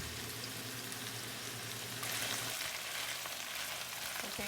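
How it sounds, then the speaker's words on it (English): Cabbage sautéing in a pan for a saltfish dish, a continuous soft sizzle and crackle that brightens slightly partway through, with faint stirring scrapes and no talk. "I'm going to saute this down for 5 minutes."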